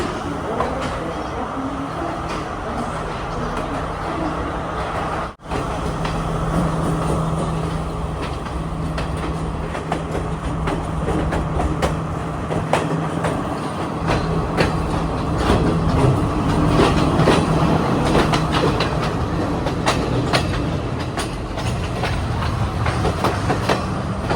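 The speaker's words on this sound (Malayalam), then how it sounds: "9:01 കാൻഡി റെയിൽവേ സ്റ്റേഷൻ ഇതാ ട്രെയിൻ എടുത്തിരിക്കുകയാണ്" The Podi Menike Express pulls out of Kandy railway station in Sri Lanka, a steady loud rumble of wheels with rhythmic clickety-clack and a brief dropout in sound, the rolling noise continuing throughout.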